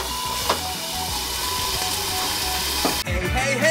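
Fried eggs and sausages steam-fry in a pan after water is added, making a loud, continuous close-up hiss and sizzle with a low hum beneath and an abrupt shift near the end.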